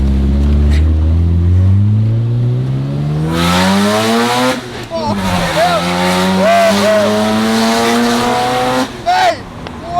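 Rare factory manual JDM car of around 450 bhp revving hard through a burnout, a loud close engine climbing in pitch with bursts of tire squeal and scrubbing, while people shout excitedly over it.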